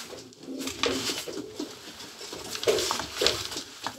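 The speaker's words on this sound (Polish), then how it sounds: "Jest to gołąbek z bardzo dobrej hodowli." A male Polish show pigeon coos softly with low, rolling calls, faint and close, accompanied by light rustling and pattering in its loft.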